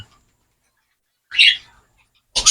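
Zebra finch chicks give two short bursts of high, thin calling, the first near the middle and the second right at the end, each separated by silence.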